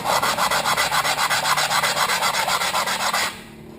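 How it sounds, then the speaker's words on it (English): KTM 400 EXC brake pad rubbed back and forth on abrasive to deglaze it, a rapid regular rasping rhythm of about two dozen close, loud strokes that stops abruptly near the end. "And when you start to deglaze them, you can see where the eye spots and the low spots are."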